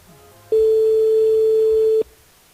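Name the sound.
telephone call ringing with no answer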